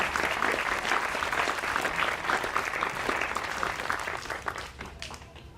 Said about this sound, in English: I think we should all give those sponsors a nice round of applause for their continued support of our band.